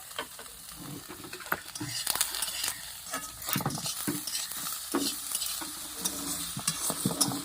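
Steady sizzling of neem leaves frying in oil, with a spatula scraping and stirring the pan in irregular strokes throughout.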